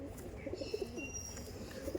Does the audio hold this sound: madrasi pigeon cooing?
yes